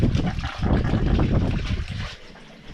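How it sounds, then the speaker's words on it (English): Water rushes and splashes into a boat with a churning, turbulent sound, fairly loud and close, easing off briefly near the end before picking up again. "Sound of water gushing into the boat."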